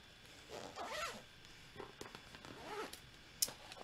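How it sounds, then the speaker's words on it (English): A zipper on a bag of paints and brushes is pulled closed in two quick, rasping runs, quiet and close, with small rustles and a light click at the end. "Zip that up."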